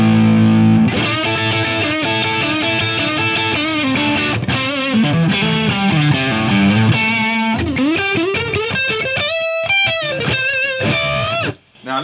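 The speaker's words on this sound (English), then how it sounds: "if I want to really push the overdrive" Electric guitar played through a heavily overdriven amp, pushed hard, thick distorted chords and sustained notes ringing out loudly and continuously before cutting off at the end.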